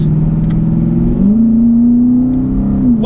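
Lexus IS F with a 5-litre V8 revs steadily at close range, its loud engine note climbing in pitch about a second in and holding high for several seconds before easing slightly.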